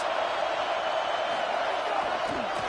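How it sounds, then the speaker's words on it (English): A loud stadium crowd roars in the College Football video game during a Tennessee matchup, a dense, constant wall of noise with a commentator talking over it. "Listen to this crowd just shaking the girders of this place, trying to help their defense."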